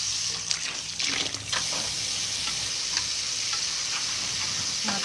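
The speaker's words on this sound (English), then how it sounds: "my head is gonna be down while I rinse my hair" Running water pours steadily while hair is rinsed with the head held down, a continuous hissing splash close by with slight shifts as the flow is disrupted and no talk.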